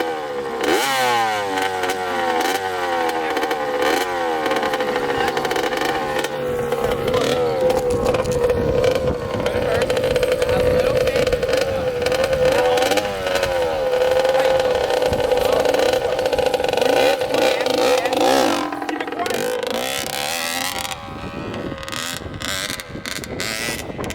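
A dirt bike engine revs hard and continuously for over twenty seconds, its pitch rising and falling with throttle changes, loud and close throughout.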